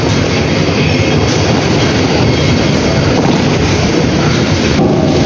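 An MRT train in Putrajaya, Malaysia rumbles steadily and loudly throughout, a continuous close-up rail roar with faint wheel noise and no voices.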